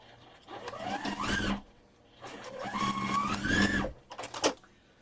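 A sewing machine stitches a 1/4-inch seam along a quilt border in two runs of steady whirring motor hum, the second longer, with a brief burst of mechanism noise at the end; close and moderately loud.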